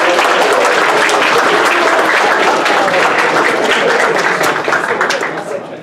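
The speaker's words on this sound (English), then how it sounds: "let's give them a round of applause." Dense, sustained applause fills a university lecture hall for a winning team in a class machine-learning competition. It stays loud and steady, then tapers off at the very end.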